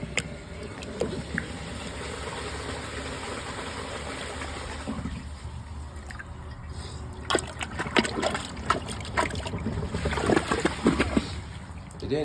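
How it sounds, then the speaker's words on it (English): Hand plunging a clogged 2005 comfort-height Kohler Highline toilet gives wet sloshing and gurgling water, steady at first, then bursts of louder splashing and sucking toward the end. "It didn't take much plunging actually."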